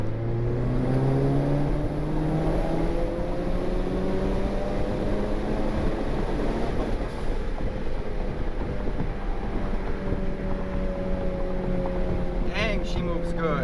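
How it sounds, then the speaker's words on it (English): A Honda Civic with an R18 turbo engine and a muffler delete accelerates at wide open throttle, a loud, raspy engine note climbing steadily through the gears with wind roar, heard from inside the moving car. "I mean, this car is moving."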